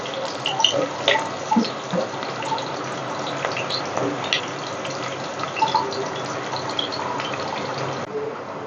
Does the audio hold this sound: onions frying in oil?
yes